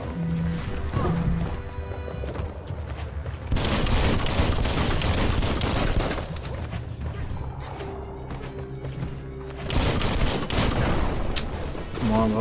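Gunfire in Biomutant: bursts of rapid shots crackling in loud clusters, with heavy volleys around the middle and again near the end over busy game sounds, including horse-like hooves and whinnies.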